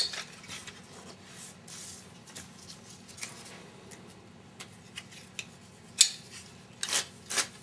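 Scissors snip through paper, cutting a scalloped edge on a die cut. Short, crisp cuts come at an uneven pace, close by, with a few louder snips toward the end.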